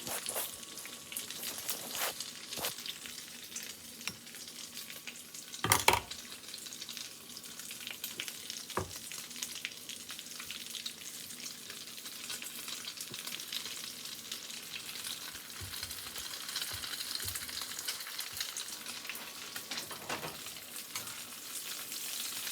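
A shrimp egg foo young patty fries in oil over high heat, giving a continuous close crackling sizzle with occasional sharp pops and utensil clicks throughout.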